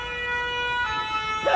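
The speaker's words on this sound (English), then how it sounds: "I'm hearing the siren." A steady wailing siren with layered tones sounds at moderate volume during a violent thunderstorm in Paris, with a brief louder noise near the end.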